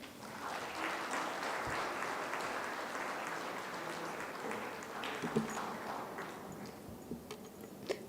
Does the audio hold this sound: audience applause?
yes